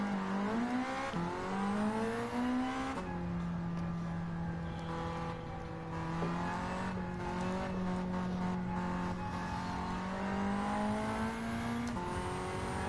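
A Ford Sierra RS500 engine revs and drones steadily in Gran Turismo 7, its harmonic whine rising and falling through gear changes, loud and close with no talk over it.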